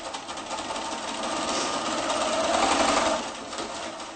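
Sewing machine running steadily as it stitches one whole side seam of a reversible A-line dress in a continuous circle, a close, even mechanical whir that rises slightly in the middle and eases off near the end.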